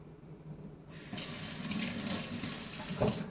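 Water runs from a kitchen tap as hands are rinsed, starting abruptly after a quiet moment and continuing as a steady close splashing stream, with a brief louder gush near the end.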